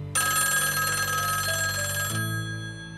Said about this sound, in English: It is only when the phone rings that Wells breaks contact with Chigurh